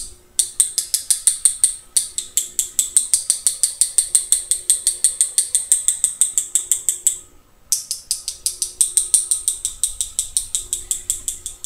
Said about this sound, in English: And then I will tap it with another brush to give me my stars.